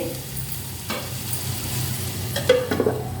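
A spoon stirs a mutton chukka mixture in a pan over a low sizzle, with a few scraping strokes early on and a cluster of clinks near the end.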